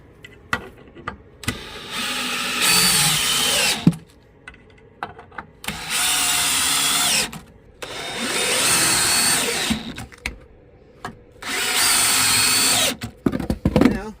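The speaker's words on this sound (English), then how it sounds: "Drive your screws in there. Screwing in the other side." Power drill driving screws into a wood board, three loud close bursts of whining motor each lasting about two seconds, separated by quiet handling clicks and knocks.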